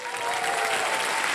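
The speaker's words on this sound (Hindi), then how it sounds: "हम ताली बज जाए इनके लिए" A studio audience on the KBC game show claps in a dense, loud burst of applause that fills the short moment without any voice over it.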